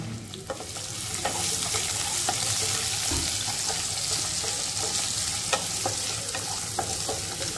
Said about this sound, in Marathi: आता हे परतून झालं तर त्याच्यावर आपण बारीक चिरलेला कांदा टाकून घेऊ.